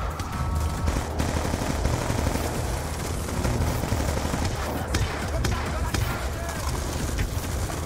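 Sniper and automatic gunfire in Call of Duty Black Ops 2, dense overlapping shots and bursts filling the whole stretch with battlefield noise, under game voices.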